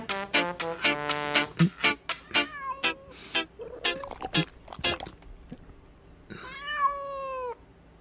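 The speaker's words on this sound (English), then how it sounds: "The kitten is now a cat." A cat meows repeatedly and close up, a rapid string of short calls followed by a longer drawn-out meow near the end.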